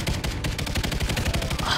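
LSAT light machine gun fired in Call of Duty Ghosts, a continuous rapid burst of loud, evenly spaced shots rattling close up throughout.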